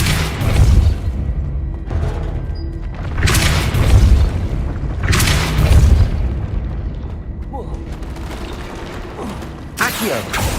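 Repeated spell blasts from the Depulso charm in the wizarding game Hogwarts Legacy, several heavy booming impacts a couple of seconds apart mixed with creaking, grinding mechanical movement, and another sharp hit near the end.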